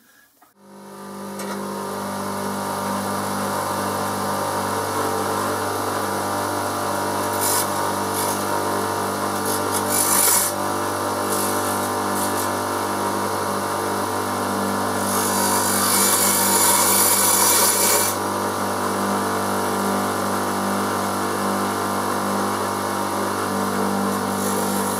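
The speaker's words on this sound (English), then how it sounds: "as I dress the wheel, I can push the diamond out" A bench grinder runs with a steady hum while a diamond dresser is pushed against the spinning grinding wheel, adding brief scraping hiss bursts near the middle and a longer one later on.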